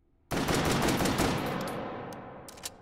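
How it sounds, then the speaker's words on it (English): A single loud Swedish shotgun blast in the VR game Hot Dogs, Horseshoes & Hand Grenades, striking sharply and then trailing off in a long fading echo, followed by faint mechanical clicks. "It's a really unique shotgun."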